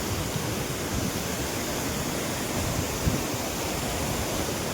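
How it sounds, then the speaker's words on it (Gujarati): Water falls from above at the Kalpeshwar Dhara stream by the Kalpeshwar Mahadev temple, a constant, loud, broadband rush with no break. "આવી રીતે ઉપરથી આવે છે પાણી."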